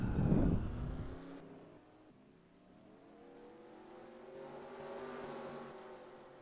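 Race car engines in a racing video game as the field rolls off, a low droning roar that dips and then rises steadily in pitch as the cars accelerate, with no talk over it.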